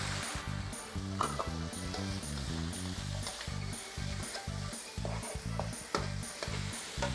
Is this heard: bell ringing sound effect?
no